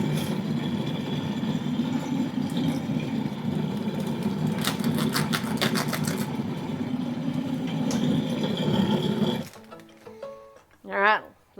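An electric mixer beating sugar into Basque cheesecake batter, a steady whirring motor drone with rattling bursts that runs close and loud for several seconds, then stops as a voice speaks.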